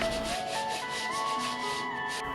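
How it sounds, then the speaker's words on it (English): Continuous hand sanding rubs across black-painted wooden legs of a juniper bench, a close, steady scratchy friction with rhythmic strokes throughout. "I'm going to sand them down a bit to give them that worn antique look"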